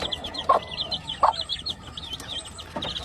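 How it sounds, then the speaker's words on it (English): Kelso game rooster on a farm in Hawaii making soft, brief clucking calls, a few short bursts over steady high-pitched chirping of other birds in the background. "Super Kelso rooster."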